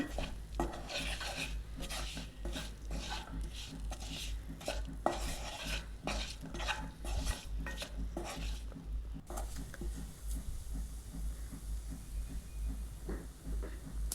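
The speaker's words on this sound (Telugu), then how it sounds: "వేసుకొని కలుపుకోవాలి మంచిగా మిక్స్ చేసుకొని" Spoon or spatula stirring and mixing egg fry with masala in a pan: continuous rhythmic scraping and clinking under a soft sizzle, close and steady throughout.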